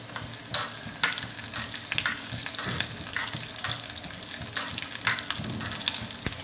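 Mustard seeds and urad dal frying in hot oil: a steady, close crackling sizzle with sharp pops, and the spatula stirring through it throughout.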